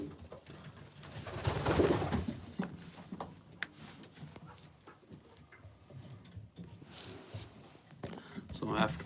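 Racing pigeons coo in soft, repeated throaty calls close by, along with faint shuffling and footsteps, while a person talks over them at times.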